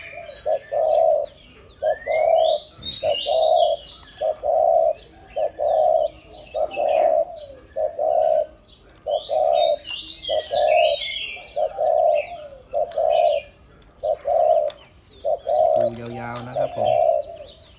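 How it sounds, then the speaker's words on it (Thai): A decoy dove repeats a steady series of low coos, about a dozen evenly spaced notes, with small birds chirping in the background. "คูเสียงใหญ่นะครับแต่โยนเสียงกลางนะครับ"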